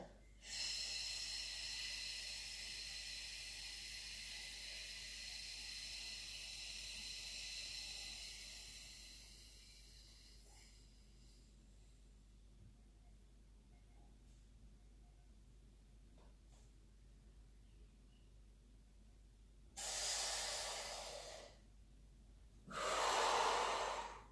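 During a toning and stretching workout, a person breathes in one long, soft, close inhale lasting around ten seconds, then after quiet gives two short, louder breath bursts near the end.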